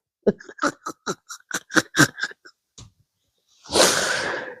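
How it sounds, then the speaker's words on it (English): An old dog sneezing, a rapid series of about a dozen short, sharp nasal snorts and sneezes, followed by a longer breathy huff, all close and loud. "Oh, you sneezing?"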